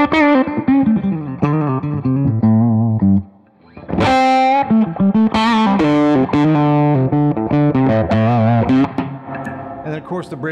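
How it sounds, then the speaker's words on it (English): Electric guitar with a tune-o-matic bridge, played on its neck pickup through distortion: thick sustained chords and melodic lines with a brief pause, loud and close, with no talk. "Neck pickup sounds great."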